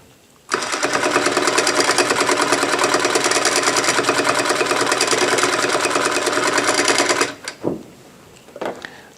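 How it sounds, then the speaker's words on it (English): A sewing machine stitching after a tension adjustment, starting abruptly and running at a steady, fast, rattling rhythm for several seconds before stopping, followed by a few faint clicks and handling sounds. "we'll go ahead and do some stitching."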